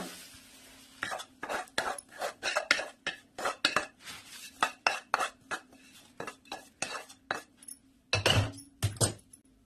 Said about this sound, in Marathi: कढईत हलवता येत नव्हतं म्हणून मी एका परात ट्रान्सफर करून घेतो